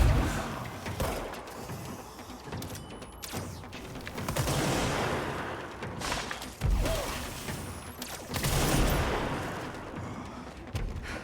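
Pistol gunfire in the action video game Control, irregular bursts of shots mixed with loud impacts and game effects, dense and close throughout.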